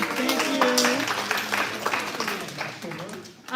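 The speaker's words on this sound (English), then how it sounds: "let's give them a round of applause" A congregation applauds during a Friday evening Shabbat service at a temple, scattered clapping rising and falling beneath a speaker's voice and chatter.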